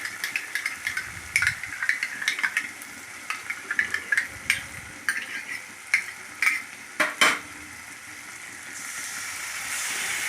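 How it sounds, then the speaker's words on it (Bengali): Spices stirred and scraped with a metal spatula in a hot pan for a vegetarian stuffed potato curry in yogurt: a quick run of rhythmic scrapes and clinks over a sizzle, easing into a steady frying hiss. "এবার মশলাটাকে ভালো করে নাড়াচাড়া করে নিচ্ছি, খুন্তি দিয়ে কষিয়ে নেবো ভালো করে নাড়াচাড়া করে"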